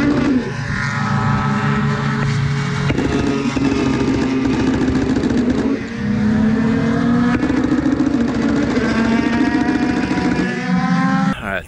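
Indy cars roaring through turn 1 at Pocono at the race start, a loud continuous wall of engine noise with rising and falling pitch as the pack passes close by, no voices.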